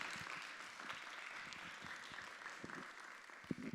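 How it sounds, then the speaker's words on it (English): An audience at a performing arts premiere night at the Tarkington applauds the artists, with soft, distant, continuous clapping at low level. "Let's have another round of applause for our artists."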